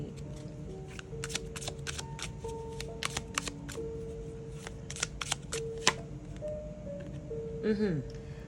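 A deck of tarot cards is shuffled in a steady run of short, crisp riffling snaps across several seconds, moderately close, with a voice talking quietly underneath in Thai.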